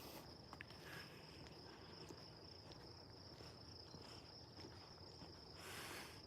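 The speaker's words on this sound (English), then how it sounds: "Some crickets in the back." Crickets chirp in a quiet park in Brantford, Ontario, at night, a faint, steady high trill in the background with soft rustling and occasional footstep-like sounds.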